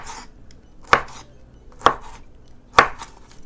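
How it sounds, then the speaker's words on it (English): A knife strikes a cutting board three times at an even pace, slicing fresh bamboo shoots into thin pieces for Lao bamboo soup, close and crisp with no voices. "Just flip it over and just cut it thin little pieces like that."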